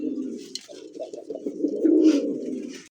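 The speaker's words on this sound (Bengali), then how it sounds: "অরিজিনালি গোল্লা কবুতর দেখেন" A pair of Golla pigeons coo close up in a long, throaty, rolling run that swells toward the end, with a soft flutter near the start and no talk.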